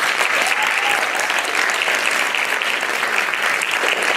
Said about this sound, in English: give these wonderful people a round of applause